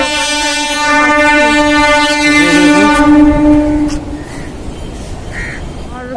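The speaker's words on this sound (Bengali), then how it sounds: "মেট্রো ট্রেন চালু হয়েছে ট্রেন আসছে ট্রেন আসছে পাশ দিয়ে" A metro train passes nearby with loud, sustained horn-like tones over a rumbling roll, and the noise fades as the train moves on.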